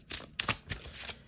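A deck of oracle cards being shuffled by hand: a few quick, soft riffling bursts, close and fairly quiet, with no talking.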